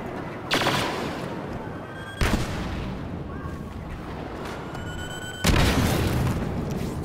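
Gunfire from the Star Wars Battlefront video game: three sharp, loud blasts about two seconds apart, each leaving a sustained rumbling decay and steady battle noise between them.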